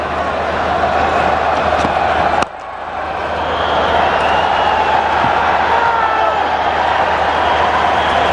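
A packed cricket stadium crowd in Delhi at an India vs Australia one-day international keeps up a loud, steady roar that dips briefly before swelling again, with commentators talking over it.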